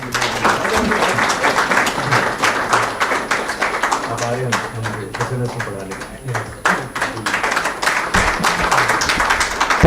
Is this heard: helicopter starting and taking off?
no